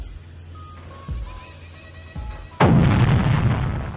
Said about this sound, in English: The first one is the Cole missile. Press on it,